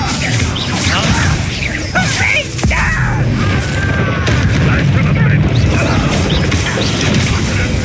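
Confringo fire spells burst during Hogwarts Legacy combat as loud, dense crashing blasts within constant battle noise, with voices over the action.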